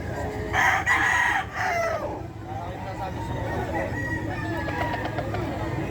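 A bullstag rooster at a pet market crows loudly once, its call rising and trailing off, while voices chatter in the background.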